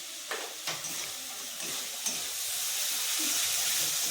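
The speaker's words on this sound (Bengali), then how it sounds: "এটা দিয়েও আমি ভালো করে কষিয়ে নিচ্ছি" Spices sautéing in a pan for goat tripe curry cooked with bottle gourd in Purulia, a steady bright sizzle with a few sharp stirring scrapes early, growing slightly louder.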